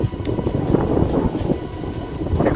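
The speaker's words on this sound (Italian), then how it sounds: "il vento inizia a farsi sentire" Steady wind blowing across an open mountain pasture near a hut above the woods in the Piccole Ande, a continuous low rushing roar with gusty swells throughout and no voices.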